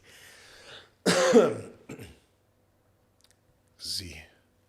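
Several close, sharp coughs and throat-clearing bursts from a person, spaced out with quiet gaps between them in an otherwise still room.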